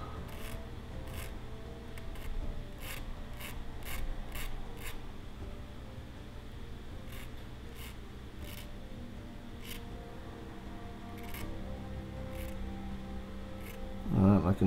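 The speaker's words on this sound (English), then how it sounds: "I'll start with a slightly thicker file because the burrs are sizable." Metal file working burrs off a small plastic model part for a battleship aircraft catapult, with short, quiet scraping strokes coming in scattered bursts, close and faint, a voice briefly at the end.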